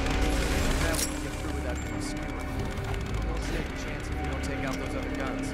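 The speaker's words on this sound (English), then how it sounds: "I did not mean to take a shot." A gunshot goes off in The Evil Within video game, loud at the start, followed by mechanical clicks and game noises while someone talks over it.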